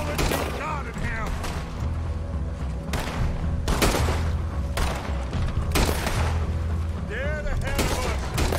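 Gunfire in a Red Dead Redemption II shootout, loud repeated sharp shots in irregular bursts with booming reports, mixed with game music and voices talking over the fighting.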